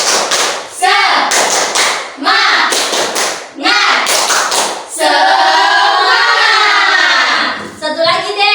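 Schoolchildren in a classroom beat out a rhythmic clapping chant, with short bursts of sharp, loud claps separated by brief pauses, then a sustained chorus of voices shouting together.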